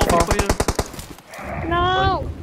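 Automatic weapon fire in the battle-royale shooter PUBG Mobile, a rapid burst of about ten close, loud shots, followed by a rising electronic game tone, with a player talking over it.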